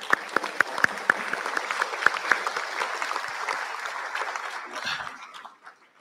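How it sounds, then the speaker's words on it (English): Graduation ceremony audience claps steadily in a large hall, several sharp nearby claps standing out over the broad applause, which thins and fades out over the last second. "Let us give them a big clap."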